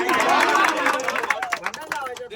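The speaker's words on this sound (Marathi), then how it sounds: "पण तिच्यासाठी टाळ्या वाजवायच्या" People clap for a girl, with a burst of scattered hand claps rising from a crowd while voices chatter and talk over the applause.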